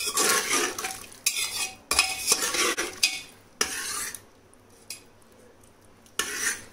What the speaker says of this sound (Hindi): आलू को दबा देंगे, कुछ को छोड़ देंगे, तो इससे क्या होगा कि इसी से ग्रेवी जो है गाढ़ी हो जाएगी।